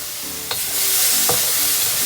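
Minced garlic sizzling loudly in a hot pan, a dense close hiss with two quick stirring scrapes of a utensil.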